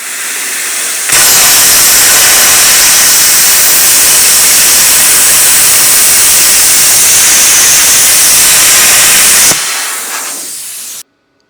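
An Arccaptain CUT 50 plasma cutter slicing through rusty steel plate: a loud, continuous roaring hiss that starts abruptly, holds steady for about eight seconds, then cuts off, followed by a brief fading air hiss.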